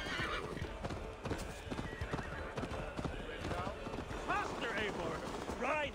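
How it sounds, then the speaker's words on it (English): A horse gallops in the video game Assassin's Creed Valhalla, steady clip-clop hoofbeats under voices talking, with a couple of whinnies near the end. "Ride like Sleipner's hooves"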